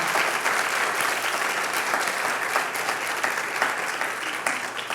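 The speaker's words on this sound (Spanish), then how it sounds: "Dale un aplauso al Señor." A church congregation claps loudly and continuously, a dense, sustained wash of applause filling the whole stretch.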